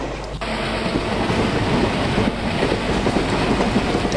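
Twin Alco diesel locomotives haul the Rajkot–Secunderabad Superfast Express in Indian Train Simulator (MSTS), a steady loud engine drone with rolling wagon rumble and faint clickety-clack throughout, no talk.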